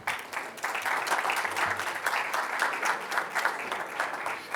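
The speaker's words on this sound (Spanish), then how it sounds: "Un fuerte aplauso para ella." An audience at a transport forum at the Expocarga 2025 trade fair breaks into sustained, even applause, a dense clapping wash heard from within the room with no talk over it.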